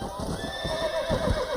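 A horse in the Red Dead video game gives a loud, close whinny over the clip-clop of its hooves. Faint voices sit underneath.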